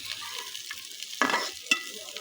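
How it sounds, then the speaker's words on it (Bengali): Green and dried chillies frying in a pan for bharta, stirred with a spatula: a steady close sizzle with two sharp scraping strokes of the utensil against the pan. "এখন আবার নেড়ে চেড়ে নিব বাদামি হওয়ার জন্য।"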